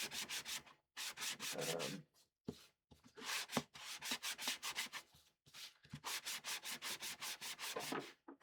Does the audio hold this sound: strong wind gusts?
no